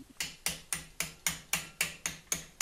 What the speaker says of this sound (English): tapping around the socket there also helps rather than just beating it in one place